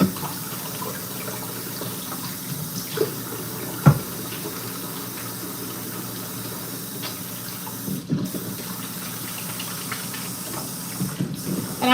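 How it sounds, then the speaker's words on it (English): A kitchen tap runs while hands are washed between handling raw chicken, a steady close hiss of flowing water with a few small knocks and splashes. "And I'm washing my hands in between."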